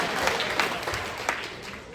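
A crowd claps steadily at a Ukrainian show or gathering, continuous applause with a few louder claps, fairly close and even in level.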